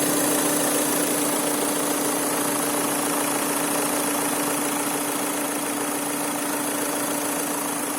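Volkswagen Passat B7 2.0 TDI diesel from 2014 idling with the engine cover off, a steady, even clatter and hum held close and unchanging throughout, with no talking.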